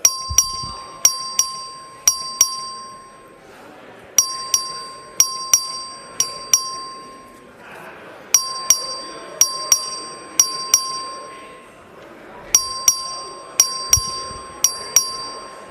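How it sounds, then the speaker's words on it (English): An electric voting bell rings in the Texas House chamber in repeated bursts of sharp, rapid strokes with brief pauses between them, loud and echoing through a large room. "Clerk, ring the bell."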